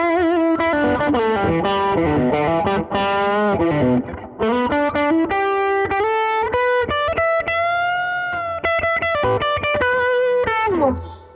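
A PRS Custom 24-08 electric guitar on its humbucker pickup plays through light distortion, with loud, singing melodic runs and chords that ring steadily and sustain before dying away at the end.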